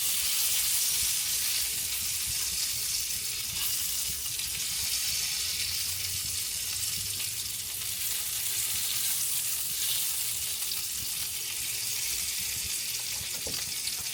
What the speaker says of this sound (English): And see the sausage? They're cooking nice and slow.